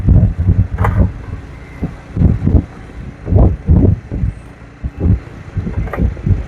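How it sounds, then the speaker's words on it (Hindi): Cool wind blowing outdoors at a roadside plot near Haridwar Road in Dehradun in June, loud gusty buffeting against the microphone in repeated surges and lulls, close and rumbling. "ठंडी हवा चल रही है"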